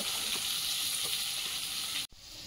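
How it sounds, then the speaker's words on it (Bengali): Hot oil sizzles steadily as fish fries in a pan, a dense crackling hiss that cuts off abruptly near the end. "এধারের কড়াইতে তেল দিয়ে দেবো, মাছগুলো ভাজা হয়েছে তুলে নেব"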